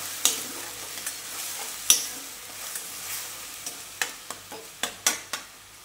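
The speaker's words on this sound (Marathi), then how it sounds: "टोमॅटोच्या पेस्टला थोडं शिजू देऊया, ज्याच्याने त्याचा कच्चापणा हा कमी होऊन जाईल।" Tomato paste cooking in hot oil for a whole masoor curry, a steady soft sizzle under repeated spoon stirs and scrapes that come in sharp, evenly spaced strokes, close and clear with no talking.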